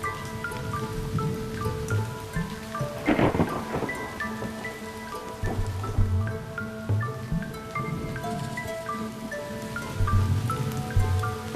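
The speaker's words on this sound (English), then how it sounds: "This is heavier rain than usual" Heavy rain, several times heavier than usual, pours steadily across dry desert grassland dotted with fairy circles, a dense broadband wash with a louder burst around the third second and faint tonal bird-like calls threaded through.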